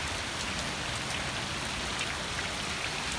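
Steady, dense rain patters on a sailing boat at anchor, a constant close hiss of drops hitting deck and water with no gaps and no voices.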